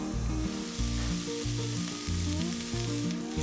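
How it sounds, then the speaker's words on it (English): Thinly sliced onions stir frying in a dry pan with no oil, a steady close sizzle with stirring scrapes, alone without talk. "first stir frying the thinly sliced onions until they are caramelized"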